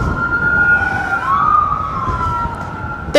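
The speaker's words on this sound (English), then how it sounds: "I'm going to wait for these sirens to go by" Emergency vehicle sirens wail past on a street, a steady, loud rising and falling tone that sweeps through the clip with traffic rumble underneath.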